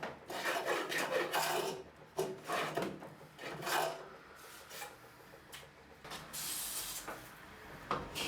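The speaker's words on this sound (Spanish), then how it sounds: "Para cepillar sobre la testa, la cuchilla tiene que estar bien afilada y las pasadas deben ser poco profundas." A hand plane with a sharp blade takes shallow passes across the end grain of wood while building a traditional tool chest, giving repeated rasping strokes with short pauses between them, close and fairly quiet.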